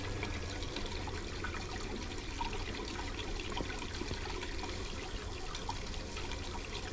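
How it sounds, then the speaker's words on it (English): Boiling water runs steadily from a tap in The Black Mirror II, a faint continuous trickling and splashing with no voices. "The water is boiling. It's running."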